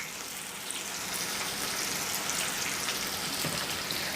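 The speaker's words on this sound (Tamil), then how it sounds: "நல்லா அந்த ஓசெல்லாம் அடங்கி, அந்த நுரை அடங்கி வர வரைக்கும் நம்ம இதை பொறுமையாக வறுக்க போகிறோம்" Thick, spicy plantain chips frying in hot oil, a steady dense sizzle and bubbling crackle that holds evenly throughout, close and fairly loud with no talking.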